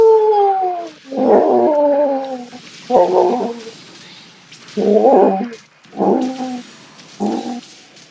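A human voice imitates a dog's mournful howl, drawn out and wavering at first, then repeated in shorter sobbing bursts. It is loud and close, with no other sound.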